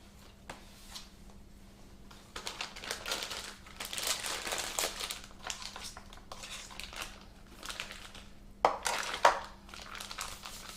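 A spatula scraped clean and run around the side of a piping bag of buttercream, soft scraping and crinkling bursts of plastic at close range, intermittent and uneven, with a faint steady hum beneath.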